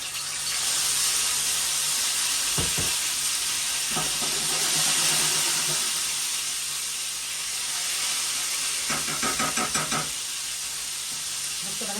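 Liver frying in hot oil gives off a constant loud sizzle and hiss, broken by a few sharp clattering stirs, with faint talk in the background.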